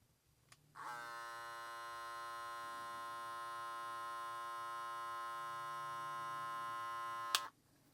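A Kemei 1825 hair clipper switched on and left running, a steady high electric buzz with strong even harmonics lasting several seconds before it clicks off, recorded close in a quiet room.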